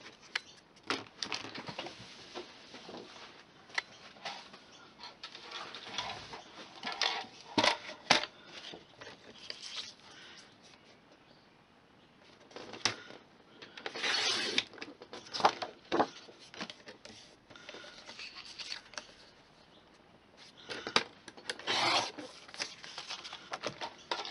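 A piece of paper or chipboard being trimmed for a handmade 3D birthday gift, heard as close, intermittent bursts of crisp cutting and rustling separated by brief pauses, with no talking.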